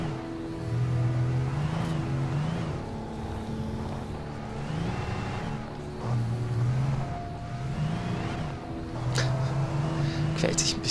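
A car engine strains in the Alan Wake video game, a low, continuous drone that rises and falls in repeated surges, loud and close.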